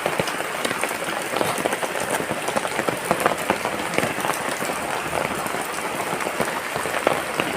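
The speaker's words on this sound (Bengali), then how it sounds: "কি বড় বড় ফোঁটা পড়ছে দেখো" Heavy rain with big drops falls steadily on ground and a flooded road under dark clouds, a dense, continuous patter with constant loud hiss and scattered sharper drop impacts throughout.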